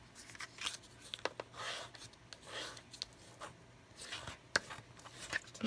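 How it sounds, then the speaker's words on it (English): Quiet paper-crafting sounds: a bone folder rubbed along a scored fold in cardstock, giving soft intermittent scraping strokes with a few light taps, close and faint, with no voices. "I'm just going to use my bone folder to reinforce that fold"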